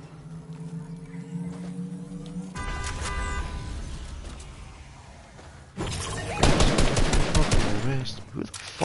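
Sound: gunshots in a video game

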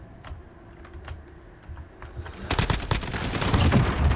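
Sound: fast typing on a computer keyboard while gaming

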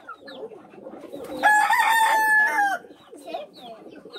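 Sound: chicken rooster crowing and clucking

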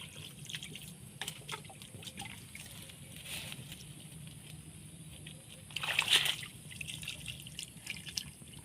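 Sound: water poured onto potted plant soil

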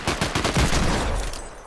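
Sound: Desert Eagle pistol shots in Fortnite video game

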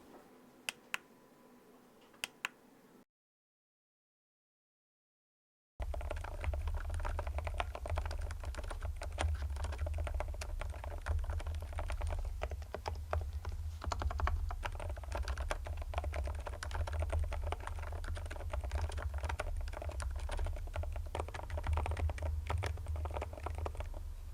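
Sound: typing on purple mechanical keyboards

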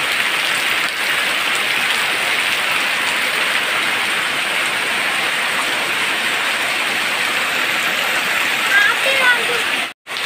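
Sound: heavy rain pouring outside

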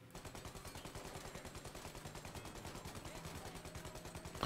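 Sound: gunfire from a video game (Mafia)

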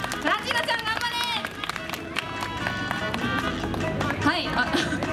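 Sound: audience applause cheering mascot Clutchina

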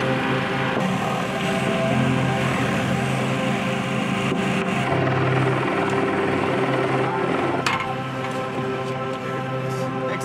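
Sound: EMS medical helicopter

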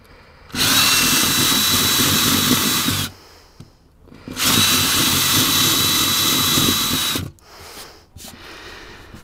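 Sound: power drill chain drilling holes in boat foredeck

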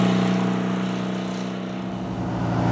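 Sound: Porsche 356 Speedster replica engine, 1600 motor, while driving

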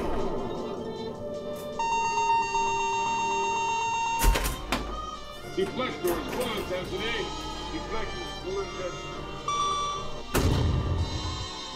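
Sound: Star Trek pinball sound board photon torpedo firing effect

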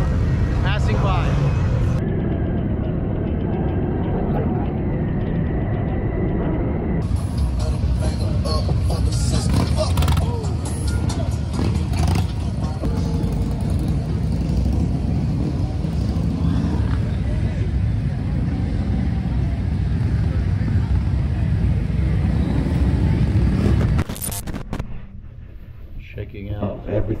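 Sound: motorcycles riding by on Main Street, Daytona Bike Week

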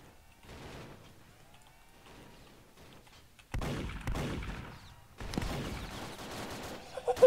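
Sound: cannon fire in a zeppelin battle, from the video game Roblox Zeppelin Wars

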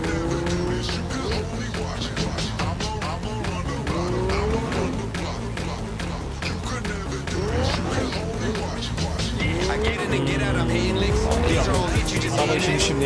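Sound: car skidding in video game Cyberpunk 2077

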